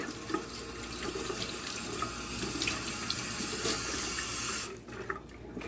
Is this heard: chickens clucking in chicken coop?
no